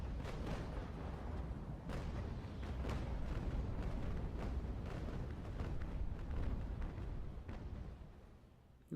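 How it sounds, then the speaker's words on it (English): Heavy, continuous rumbling barrage of explosions and gunfire between engaged warships in a naval video game, including blasts from HMS Trincomalee, dense and loud throughout with sharp booms punctuating the roar. "Massive explosions coming from the Trincomalee and then the engaged ships there."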